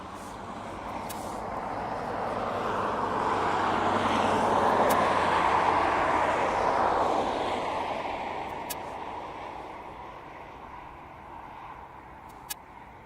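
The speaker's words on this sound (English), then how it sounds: "So that's our first arrival for this evening at Boeing 737 West Atlantic" Boeing 737 freighter of West Atlantic arriving at East Midlands Airport, its broad engine roar swelling as it approaches and passes, then slowly fading into the distance, with no talking.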